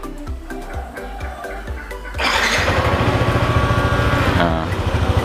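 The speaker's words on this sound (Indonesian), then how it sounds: "Yang pertama tombol start untuk menyalakan motor." A motorcycle engine cranks with several short starter bursts, then catches and settles into a steady, loud, close-up idle after being started remotely from a DMEX WiFi Android phone app.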